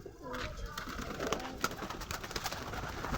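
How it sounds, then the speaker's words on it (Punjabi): Soft cooing of blue pigeons sounds faintly against background noise, with a few scattered bird calls. "ਮੱਗਰ ਵਾਲੇ ਨੀਲੇ ਕਬੂਤਰਾਂ ਦੇ ਦਰਸ਼ਨ ਕਰਾਉਨੇ"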